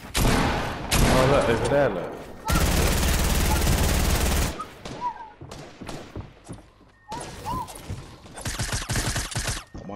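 Gunfire in the video game Fortnite, heard as loud, rapid automatic bursts and scattered single shots in a squad match, broken by pauses while players talk over them.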